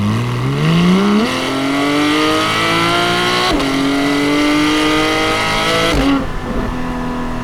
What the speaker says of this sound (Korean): GT4 같은 경우에도 기본적인 엔진 사운드라든지 배기음은 거의 동일하다고 보면 될 것 같아요